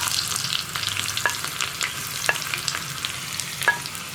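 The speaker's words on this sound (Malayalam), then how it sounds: "കടുക് പൊട്ടി കഴിയുമ്പോൾ നമുക്കിതിലേക്ക് റൗണ്ടിൽ കട്ട് ചെയ്ത് വെച്ചിരിക്കുന്ന ഉള്ളി ചേർത്ത് കൊടുക്കാം." Round-sliced onions fry in hot coconut oil after mustard seeds have popped, as a base for parippu (lentil) curry: a steady close sizzle with a few sharp clicks of stirring scattered through.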